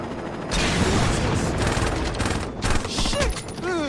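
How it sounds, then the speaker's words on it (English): Dense, rapid bursts of gunfire and explosive booms from combat against a helicopter in the video game Saints Row 2, loud and continuous throughout, with no clear talking over it. "Destroy helicopter."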